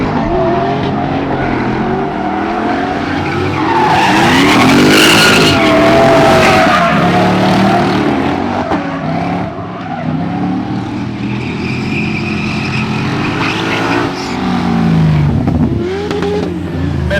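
A Mercedes AMG drift car with a 6.2-litre, 530-horsepower engine runs on a dry track, its engine revving hard and tires skidding and squealing loudly throughout, with rising and falling engine pitch.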